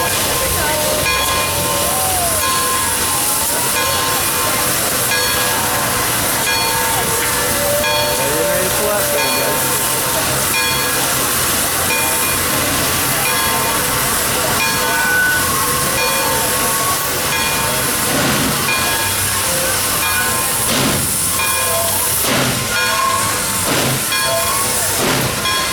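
Pere Marquette 1225, an N1 Berkshire steam locomotive, at a train expo in Owosso, Michigan: a loud, steady wash of steam hiss and rumbling machinery runs throughout, with faint tonal whistle-like lines and clanking near the end.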